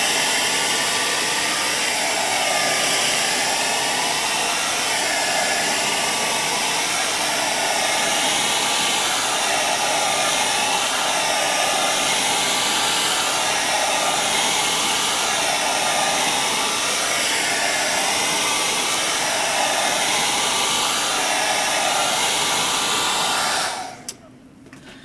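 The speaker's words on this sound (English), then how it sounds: "now her Queen's hair is nicely blow dried and ready for her style" A hair dryer blows steadily and loudly while a child's natural hair is dried in small sections, its constant whooshing roar running unbroken for about 24 seconds before cutting off abruptly at the end.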